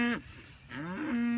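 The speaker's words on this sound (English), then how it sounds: "These very, very healthy, well cared for cows." A cow on a grass-fed cattle farm gives a single close, clear moo with a short break partway through, heard alone.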